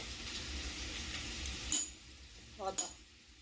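Taro (gathi kochu) fries in a pan with a soft, faint sizzle. A few sharp clinks of a utensil against the pan break in near the end.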